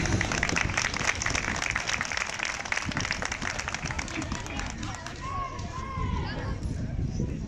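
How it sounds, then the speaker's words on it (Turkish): A crowd at a school graduation ceremony claps loudly and steadily as a teacher is invited to the podium, the applause thinning toward the end as faint tonal noises emerge. "Alkışlıyoruz."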